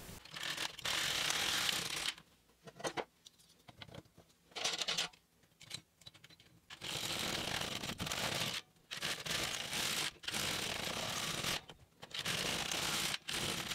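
LK150 knitting machine carriage being pushed back and forth across rows, a series of loud rasping, clicking mechanical sweeps separated by brief pauses, close and alone.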